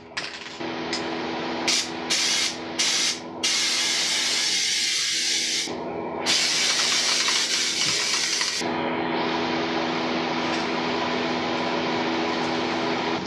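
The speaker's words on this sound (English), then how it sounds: "This spray adhesive starts out pretty weak" Broad hissing bursts of spray adhesive, a few short puffs then longer sustained blasts, close and loud over a steady background hum, while refinishing a motorcycle fairing and fuel tank.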